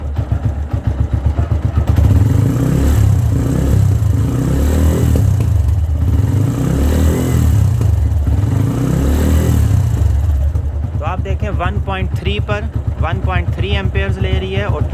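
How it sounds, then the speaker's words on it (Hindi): Self-start motorcycle engine revved in steady pulses, a loud close chugging idle climbing and falling, with someone talking over it toward the end. "अब थोड़ा सा हम इसको रेस देकर भी आपको चेक करवाते हैं"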